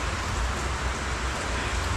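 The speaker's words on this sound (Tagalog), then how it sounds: "patitilahin ko lang ng konti yung ulan" Steady rain during a typhoon at a work site, a continuous dense hiss with low rumble filling the whole stretch at an even level, no voices.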